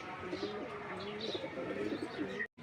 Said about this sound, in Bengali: আস্তে আস্তে কবুতর সবই ফেরত আসতেছে